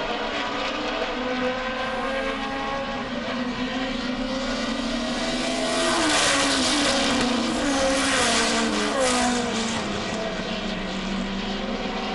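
Race cars in a short 8 or 10 lap heat race at a New England track scream past one after another, their engine whines sweeping up and down in pitch as the pack comes close and pulls away.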